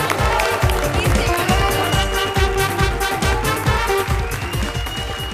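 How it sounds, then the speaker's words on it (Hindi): A studio audience at a Hindi comedy show applauds with steady, loud clapping, mixed with music and rhythmic beats throughout. "एक बार जोरदार तालियां हो जाए कृष्णा सुदेश के लिए"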